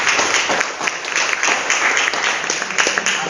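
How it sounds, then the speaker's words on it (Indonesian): Applause in a classroom after a student group's presentation: dense, steady clapping from many hands filling the room for a few seconds, without talk over it. "kita beri tepuk tangan"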